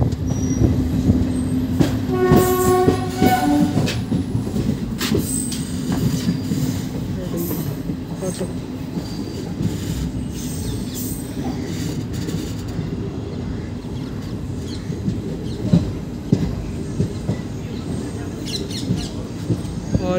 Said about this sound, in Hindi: और ये दाऊदपुर फाटक से निकली आज 22 महीने बाद जयपुर मथुरा पैसेंजर